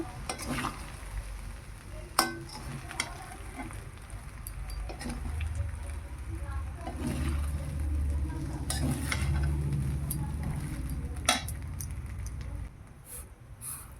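Fried rice is stirred and tossed in a pan, with a continuous frying sizzle and repeated sharp clinks and scrapes of a utensil against the metal.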